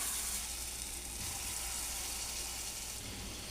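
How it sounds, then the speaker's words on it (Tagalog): Carioca dough balls deep-frying in hot oil give a steady, dense sizzle and crackle that holds close and even throughout, with no voices over it. "Pwede na natin iprito ang ating carioca."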